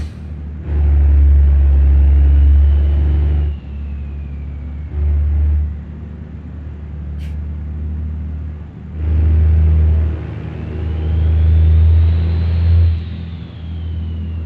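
A Power Stroke Cummins truck engine in the BeamNG.Drive driving game revs loudly in repeated bursts, deep rumbling surges rising and falling with short idle gaps between them, alone without talk.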